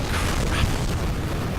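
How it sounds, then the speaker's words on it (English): Rocket explosions in Kerbal Space Program, heard as a dense, sustained rumbling roar with a heavier boom near the middle, loud and continuous throughout with no talk. "We have a lot of explosions."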